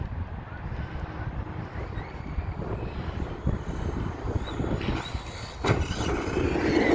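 A Force Epidemic RC car on 6S power with Six Pack wheels drives over rough ground, a continuous rumbling roar that builds and grows louder toward the end.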